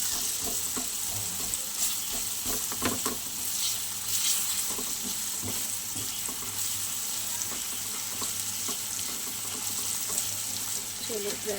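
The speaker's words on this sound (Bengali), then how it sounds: "চলো, প্রায় ভাজা হয়ে এসছে বন্ধুরা" Sliced bitter gourd sizzles in oil in a hot pan, a steady crackling fry broken by scraping stir strokes of a spatula, close and continuous, with no speech over it.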